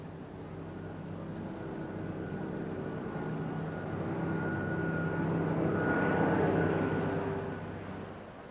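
Fighter aircraft fly past in salute over RAF Coningsby at a Battle of Britain anniversary flypast, their engine roar building steadily from a distance to a loud peak overhead, then fading slightly away, with no voices.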